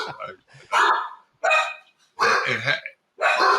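Several dogs barking in loud, close bursts, with yips and repeated barks separated by short pauses.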